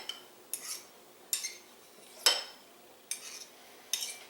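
A knife cuts through roast beef pinwheel sandwiches, making six crisp, scraping strokes at a steady pace on a quiet kitchen surface.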